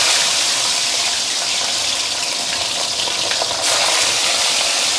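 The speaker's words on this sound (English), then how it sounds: "put in the fish when you start seeing smoke coming out from your oil" Fish deep-frying in smoking hot oil in a wok gives a loud, steady sizzling hiss that crackles throughout and briefly swells near the end.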